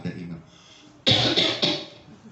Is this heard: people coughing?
yes